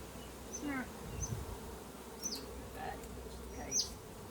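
Bees buzz around a beehive frame lifted out of the hive, a soft continuous drone with individual insects passing close by and occasional higher whines.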